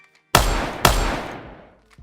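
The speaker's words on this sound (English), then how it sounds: "So in the words of Freddie Wong, a lot of the gunfights on YouTube have muzzle flashes that look something like this." A sound-effect gunfight delivers two loud, close gunshots about half a second apart, each a sharp crack trailing into a long fading rumble, with no voices.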